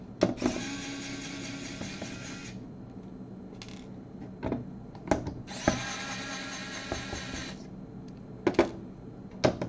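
A large power screwdriver whirs in two long bursts with short buzzes between, close and loud, mixed with clicks and clunks while installing a storage unit.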